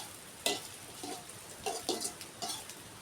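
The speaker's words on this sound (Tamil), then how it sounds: "பாய்க்காவோ போட்டு வதக்கணும்." Bitter gourd sautéing in a pan in a village kitchen, soft sizzling under repeated scraping stirs of a spoon against the pan, several short strokes close by, no talking.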